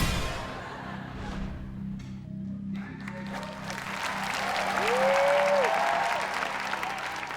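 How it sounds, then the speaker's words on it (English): Studio audience applause on a television quiz show, a dense, sustained wash of clapping that holds steady and swells louder toward the end, with no talk over it. "Kind of embarrassing that you're getting applause for peeking at a 10-year-old's"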